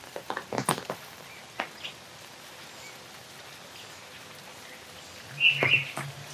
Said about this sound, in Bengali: গাছে গাছে পাখি ডাকে